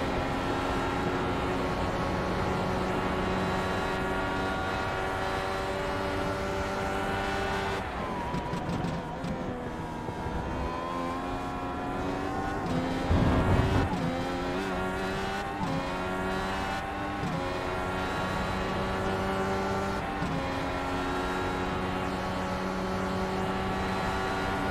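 A race car at Road Atlanta brakes hard into the S's, engine note stepping down through rapid downshifts with a burst of revs near the middle, loud and continuous without any talk.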